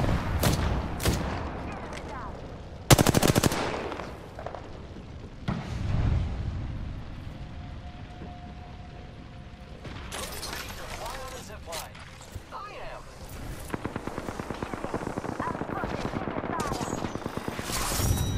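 Repeated gunfire in the video game Apex Legends: loud bursts and single shots early on, then a long stretch of rapid automatic fire near the end, with voices talking over parts of it.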